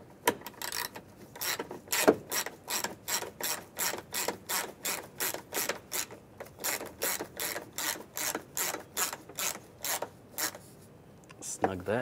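A ratchet clicks in a fast, steady run of crisp, close ticks as screws are tightened on a 2002-2008 Dodge Ram 1500 sun visor, pausing briefly near the end before a last few clicks.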